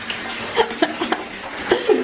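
A hotel bathtub being filled, water gently sloshing and splashing in short bursts at close range, with faint voices and light laughter around it.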